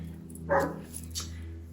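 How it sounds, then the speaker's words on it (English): A female dog left outdoors gives one muffled bark and then a fainter second yelp, both carried over a steady low electrical hum. "I'm sorry about my dog. She's upset that she's outside."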